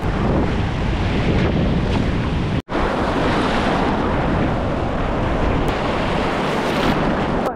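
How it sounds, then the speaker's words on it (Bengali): Steady roar of sea surf and gusting wind buffeting the microphone on Bakkhali beach, West Bengal, with one brief dropout partway through. "এখন একটু এনজয় করা যাক, যাই একটু সমুদ্রের ভেতরের অংশে, বেশ দারুণ ঢেউ দিচ্ছে।"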